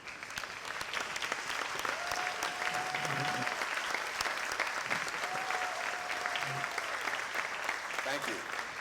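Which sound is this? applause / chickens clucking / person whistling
applause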